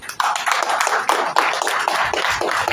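An audience at a public speech event in Srikalahasti claps steadily and loudly, a dense stream of many hands lasting the whole stretch, with no talking over it.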